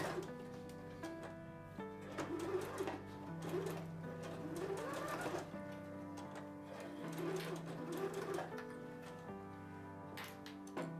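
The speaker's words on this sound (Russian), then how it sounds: "а затем прокладываю строчку, чтобы можно было убрать булавки" Sewing machine stitching apron fabric, a close rhythmic mechanical whir with ticking needle strokes in several bursts separated by short pauses.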